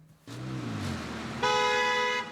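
Road traffic on a busy urban avenue rumbles steadily, then a car horn blares a sustained honk for about a second over the engine noise.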